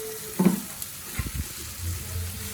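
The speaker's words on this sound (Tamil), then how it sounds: "நல்லா ஃப்ரை ஆகட்டும்" Dried vanjaram fish thokku frying and being stirred in a pan, a soft steady sizzle with a few scraping stirs near the start and middle, close and fairly quiet, without talk.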